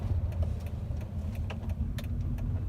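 Car driving along back roads in the South Bay, a low steady engine and road rumble heard from inside the cabin, with light rattles and clicks throughout and no voices.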